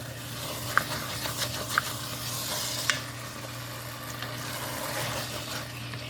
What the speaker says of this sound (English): This will deglaze the pan.